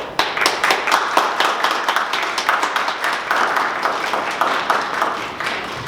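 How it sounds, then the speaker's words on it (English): A church audience applauds for children after a performance, a steady, dense patter of many hands clapping close by for the whole stretch, with no talk over it. "we will give you one round of applause"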